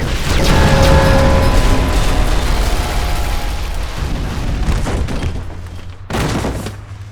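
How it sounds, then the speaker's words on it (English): A building explodes in a Call of Duty cutscene: a loud, sustained roaring blast with deep rumble and debris, fading slightly before a second sharp burst near the end. "The building erupts in an explosion."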